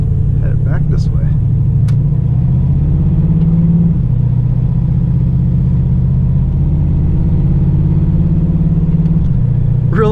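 1985 Chevrolet Monte Carlo engine on the move, a loud, close, continuous low rumble with slight swells in pitch as the car drives along.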